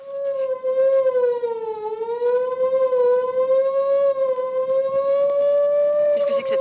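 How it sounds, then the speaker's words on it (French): A loud siren wails steadily, its pitch rising and falling slowly as it sounds continuously throughout, close and dominant. "Qu'est-ce que c'est que cette sirène? C'est le signal d'alarme."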